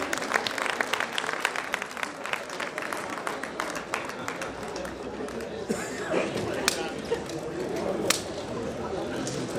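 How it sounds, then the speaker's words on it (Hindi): Audience applause at a Hindi kavi sammelan poetry gathering, dense clapping running steadily throughout with sharp individual claps standing out and voices mixed into the crowd noise. "भाई तालियां बजती रहना चाहिए।"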